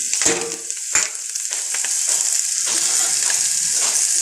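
Shredded cabbage dropped into hot oil with popped mustard seeds and turmeric, a couple of sharp tossing thuds at the start giving way to a steady, bright sizzle close by.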